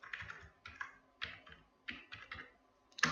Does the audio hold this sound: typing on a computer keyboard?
yes